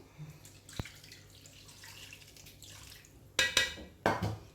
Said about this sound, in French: On va mettre de l'eau.